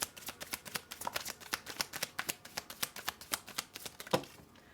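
Tarot cards being shuffled in a rapid run of crisp, evenly spaced riffling snaps, close and fairly quiet, with no voices.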